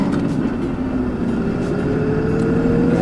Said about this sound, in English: you can hear the tires a little bit, but obviously they're mud tires, but they're quiet for what they are